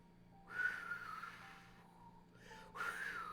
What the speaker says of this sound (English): You can hear the wind whistling.